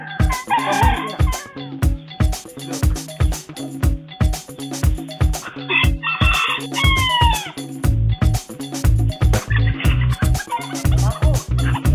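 A rooster crows and clucks several times, near and clear, over a loud, thumping rhythmic music beat that runs throughout.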